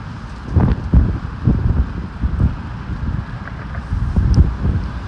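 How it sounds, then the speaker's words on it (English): Steady wind roars and buffets the microphone in low gusts on a street in central Moscow, with rumbling bursts rising and falling throughout. "it's very loud and windy here now."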